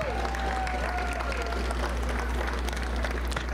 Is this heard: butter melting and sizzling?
no